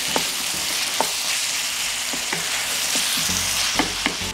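Vegetables seasoned with sweet ground red paprika and crushed hot pepper sizzle steadily in a pan, with a spoon scraping and clicking against it every so often as they are stirred; no one speaks.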